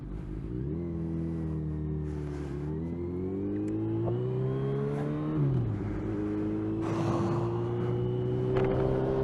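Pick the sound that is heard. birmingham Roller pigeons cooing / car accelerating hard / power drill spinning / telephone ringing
car accelerating hard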